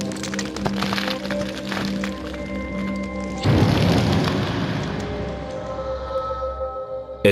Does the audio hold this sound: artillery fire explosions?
yes